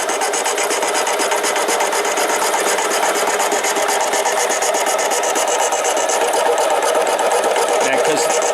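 A Harbor Freight 7x10 mini lathe with its carriage under power feed cuts 304 stainless steel, giving a steady loud grinding, rasping whine with a motor hum beneath and no pauses.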